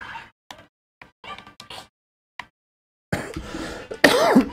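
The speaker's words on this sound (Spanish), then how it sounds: "Ay, me dio la tos." A person coughs in short, scattered bursts near the mic while playing a Super Mario Wonder level. Noisier game sounds come in at the end.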